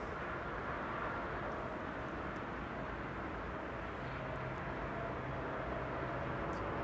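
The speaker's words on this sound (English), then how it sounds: "the Dreamliner arriving from Mexico City is following the A321neo" A KLM Boeing 787 Dreamliner arriving at Schiphol gives off a steady, distant roar of jet engines, even and unbroken throughout, with a faint tonal drone and no speech.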